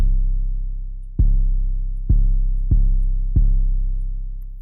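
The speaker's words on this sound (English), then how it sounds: "Like a quick 808, like boom, boom, boom." A short, punchy trap 808 bass is programmed in FL Studio, with four deep booming hits landing at an uneven pace. Each hit has a sharp attack and a sliding, decaying low tail. The hits are loud and close, with nothing else playing.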